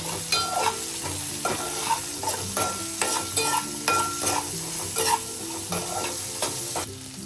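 Chopped green chillies and okra frying in a pan for sambar, a steady close sizzle broken by repeated scraping and stirring clatter from a spoon, with no voices.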